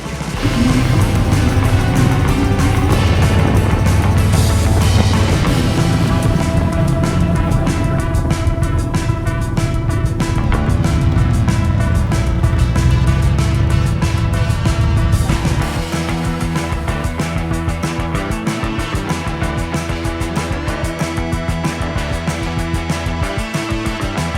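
Motorcycle carrying a rider and pillion passenger along roads in Romania, a steady loud engine drone with wind rush throughout, its note shifting partway through as the bike changes pace, with no talk.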